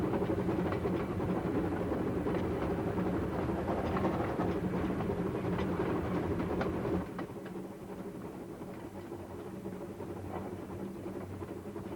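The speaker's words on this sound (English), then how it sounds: "So listen for a moment to Maid Marian's puffing music." The narrow-gauge steam locomotive Maid Marian runs along the Bala Lake Railway with a steady rhythmic chuffing, hiss and rolling wheel clatter. It is loud and continuous, then drops slightly in level partway through.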